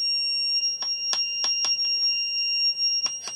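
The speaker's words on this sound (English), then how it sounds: "and it beeps continuously" A steady high electronic tone drones throughout, broken by a series of sharp, irregular clicking beeps from a fan controller's buzzer, close and fairly loud, with no talking.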